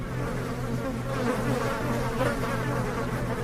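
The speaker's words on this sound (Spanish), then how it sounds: "con ella salió una nube de moscas que nos hizo manotear y retroceder." A cloud of flies bursting out of an opened car trunk, a dense, continuous buzzing drone that stays close and fairly loud throughout with no voices.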